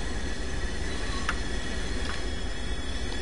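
Commuter train locomotive on the Peninsula Corridor in Train Sim World 2, a steady loud engine drone and rail rumble running throughout, with a couple of faint brief squeaks partway.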